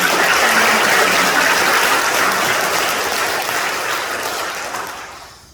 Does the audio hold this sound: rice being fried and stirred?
no